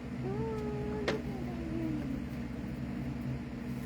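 A pet cat meows once or twice while being held like a baby indoors, the soft calls close and fairly faint over a steady low background hum.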